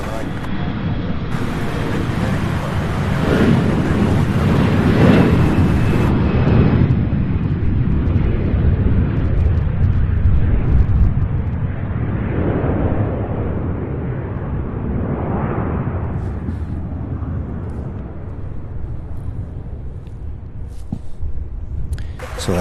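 An Embraer E175 jet at Louisville International Airport roars past loudly. The engine noise swells, then slowly fades into a softer rumble, with wind buffeting the microphone.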